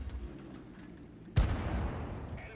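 A single heavy Cromwell tank cannon blast in a video game booms out suddenly, followed by a rumbling tail over low background noise.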